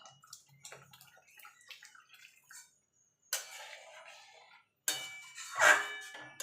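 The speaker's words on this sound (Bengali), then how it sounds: "এবার দিয়ে দেবো গরম জল।" Hot water hits a pan of Bengali rui fish kalia gravy in two short pours, each a loud splashing rush lasting under two seconds. Light clinks of utensils come before them, and no one speaks.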